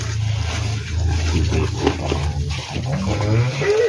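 An Ongole crossbred cow lows in deep, drawn-out calls close by in a noisy cattle pen, with other livestock sounds mixed in.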